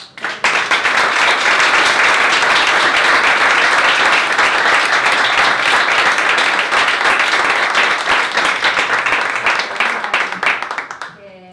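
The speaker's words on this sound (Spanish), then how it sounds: "que quiero un aplauso" A room full of people gives a long, loud, steady round of applause for artists at a talk, with dense clapping throughout before it fades out at the end.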